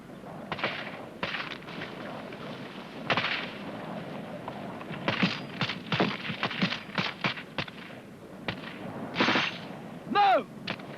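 Cold War British Army section firing rifles and a machine gun in a fire-and-manoeuvre exercise, sharp irregular bursts of shots at middle distance, some clustered rapidly, with brief shouting near the end.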